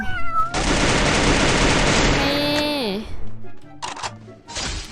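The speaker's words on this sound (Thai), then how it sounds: "แมวค่ะทุกคนแมว" A cat meows loudly over a burst of harsh, dense noise from Free Fire gameplay, with a rising and falling electronic whoosh, followed by scattered clattering sounds.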